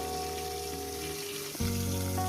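Pointed gourd and potato curry frying in a covered pan, giving a steady sizzle with a faint hum that shifts abruptly partway through, with no talking.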